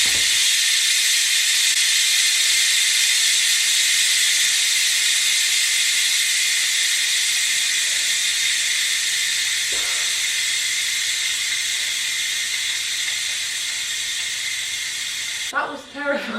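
Steam hisses loudly and continuously from a rice cooker's pressure release valve, a bright sustained jet that holds for many seconds before ending abruptly, with a brief rattle at the end.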